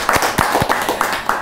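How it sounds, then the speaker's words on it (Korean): An audience at a talk claps in a short, uneven patter of hand slaps, close and fairly loud, lasting only a moment. "박수 한번 합시다."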